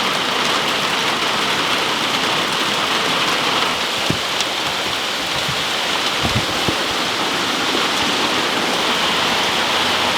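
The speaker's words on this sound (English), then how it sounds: "You can just hear it pitter-pattering on the tin roof." Steady rain drums on a tin roof over an off-grid workshop, a dense, continuous patter that stays even and close for the whole stretch, with a few sharper drips landing now and then.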